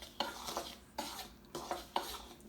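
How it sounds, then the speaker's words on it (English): A regular spoon stirring flour and salt together in a bowl for homemade clay, giving four quick scraping strokes in a regular rhythm, close and fairly quiet, with no voices. "You're going to stir to combine. I'm just using a regular spoon"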